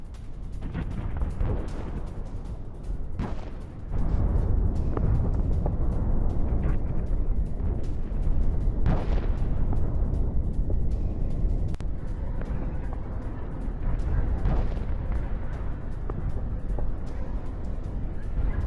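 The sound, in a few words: explosions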